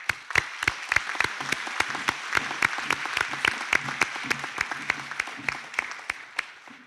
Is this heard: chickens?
no